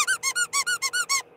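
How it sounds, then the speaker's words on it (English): A squeaky plush toy is squeezed eight times in a quick, even rhythm, each squeak loud, close and shrill, with no voices. "He's so huge and squishy and squeaky."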